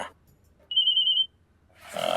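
A single short, high electronic ring tone sounds once in near silence, followed by a rising rustle of noise.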